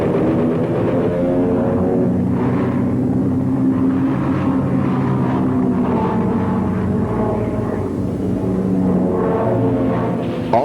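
Model airplane engines drone continuously over an open model air park in the Antelope Valley, Lancaster, a loud buzzing whine that rises and falls as the aircraft pass, with no talking.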